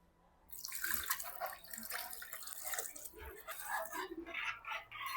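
Water is poured into a pot of tamarind fish curry made with stingray tail, giving a close, splashing, trickling stream that begins after a short silence and keeps running with small surges.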